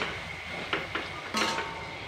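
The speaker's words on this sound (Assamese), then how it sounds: "ভাতটো কাঢ়িম" Cooked rice served from a pot with a spoon, a few soft scraping and clinking strokes in a quiet kitchen, close and fairly faint.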